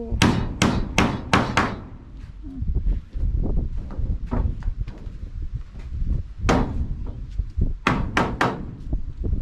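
Nails being hammered at a farm hut in a rice field, a string of sharp metallic strikes in quick bursts of four or five blows, close and loud, with pauses and fainter knocks between, over low background murmur.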